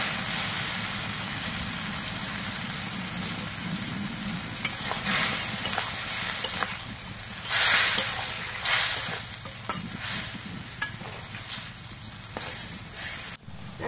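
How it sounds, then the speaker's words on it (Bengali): Small chengti fish fry in spices in a pan with cauliflower, a steady loud sizzle broken by repeated scraping and clattering strokes of the stirring spoon, with no voices. "এখন মশলা মশলা একসাথে মাছগুলো দিয়ে দিই।"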